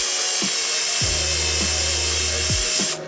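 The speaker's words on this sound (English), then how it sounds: "I find if you drill them, it stays there." A drill cuts out spot welds on the body of an R32 Skyline. It gives a steady, close, high grinding whine with a few deeper bites as the cutter engages, and cuts off at the end.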